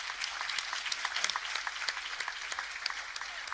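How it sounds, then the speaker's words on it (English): Audience applause at a workshop on minimum wages, steady moderately distant clapping with many overlapping hands throughout, fairly soft and even. "I'd like to ask you to give a big hand of applause to Nicolas Smit for being here"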